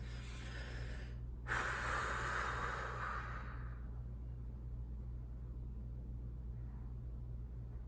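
A slow, steady inhale through the nose to take in an oud perfume, a soft breathy rush swelling for about two seconds close to the microphone, then fading into a low constant room hum.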